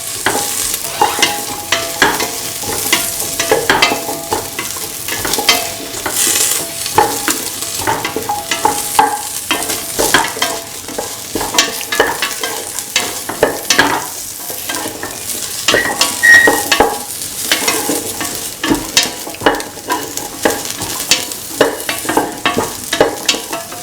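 A spatula stirs and scrapes egg, soya chunks and carrot sizzling in a hot pan for a scrambled egg dish, with steady frying crackle and repeated clicking strokes, loud and close with no talking.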